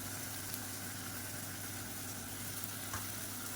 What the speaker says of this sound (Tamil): இப்போ அதில் இஞ்சி பூண்டு பேஸ்ட்டு சேர்த்துக்கலாம்.